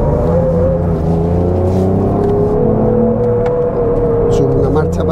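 A 2023 Ford Ranger Raptor pickup's engine pulls hard and steadily under acceleration, its loud drone rising and dipping as gears change, with a voice talking over the noise from inside the cab.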